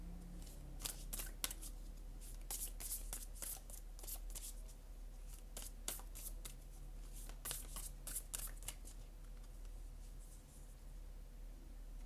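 Oracle cards are shuffled in quick, crisp riffling bursts, faint and close, repeating over several seconds with brief pauses and no talking.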